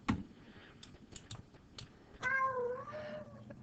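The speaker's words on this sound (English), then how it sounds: "that's my cat, if you can hear her in the background" A pet cat meows once, a drawn-out wavering cry, faint and in the background, after scattered keyboard typing and clicks in a quiet room.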